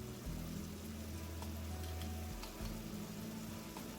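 Ground turkey cooks in a pan with a steady, quiet sizzle and crackle, accompanied by a low humming drone in the background. No one speaks.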